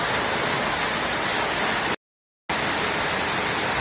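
Heavy rain pours down outdoors where a lamp has been left out as a water test, a dense, loud and steady hiss that cuts out briefly midway before resuming at the same intensity.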